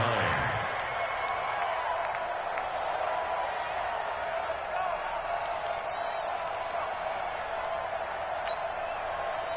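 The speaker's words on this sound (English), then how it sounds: "The crowd getting into it as we come up on a big 3rd down." A stadium crowd in a football video game roars in a steady, broad wash of cheering ahead of a big third down, with faint chirpy effects layered over it.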